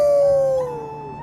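A single drawn-out howl in Thronebreaker: The Witcher Tales, loud and tonal, sliding slowly downward in pitch and fading over about a second.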